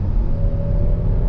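A 2023 Kia Telluride SX accelerates through traffic, its engine and road noise forming a steady, close low rumble and whir with no break across the moment.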